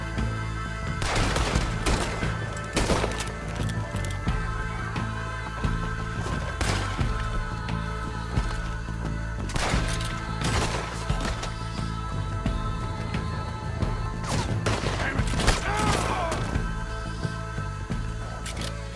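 Gunfire in the video game Red Dead Redemption 2 breaks out in scattered shots and sharp cracks over a dense, continuous rumble of game ambience and music, some shots nearer and louder, with no talking.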